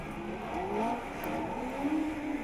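Rallycross cars at Dreux launch for a semi-final race, engines rising and revving in a dense, fairly distant mechanical roar with no talking over it.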